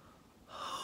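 A single short, breathy yawn, drawn in close and quietly, rising toward its end.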